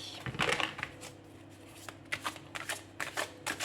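Tarot cards shuffled and drawn from the deck at close range, bursts of crisp riffling and flicking cards coming in quick uneven clusters, with a brief quieter pause between them.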